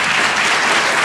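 An audience at a festival award event in Manisa applauds the jury members with loud, dense, sustained clapping that fills the hall without a break.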